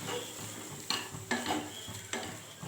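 Soaked rice being stirred in a pan over low simmer heat, a soft scraping and shuffling with a few sharper clinks of the utensil against the pan, close and fairly quiet, with no talking.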